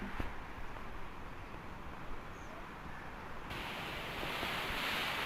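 Water of the Jhelum River rushing through the open gates of a dam at Jaggu Head, a steady broad roar heard from nearby that swells a little louder toward the end.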